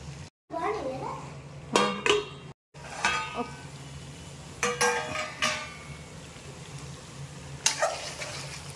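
Ginger is stirred into chicken curry in a pan, with scattered metallic scrapes and clinks of a spoon against the pan, near and moderately loud, between stretches of talking and a voice.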